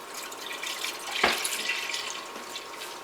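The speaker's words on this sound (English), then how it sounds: "The first thing you need is half a gallon of whole milk. You're going to pour the whole thing into your pot." Half a gallon of whole milk is poured into a pot for homemade ricotta, a steady liquid rush with one sharper splash partway through and no voices.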